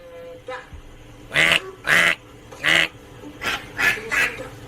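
A voice imitates a duck, giving six loud, nasal quacks in an uneven run after a brief murmur, with no other talk.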